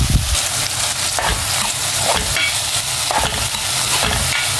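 Chicken sausage fries in a pan with a loud, continuous sizzle, broken by repeated scraping strokes as it is stirred close by.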